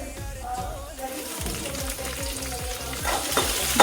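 Garlic and green chillies fry in hot oil with mustard seeds and curry leaves, making a steady close sizzle with spitting crackles and stirring scrapes.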